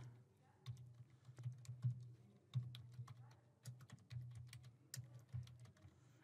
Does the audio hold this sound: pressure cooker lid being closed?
no